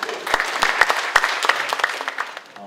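Audience members at a National Assembly forum clap warmly for the opening address, a brief burst of close, distinct hand claps over a denser patter that fades out after a couple of seconds.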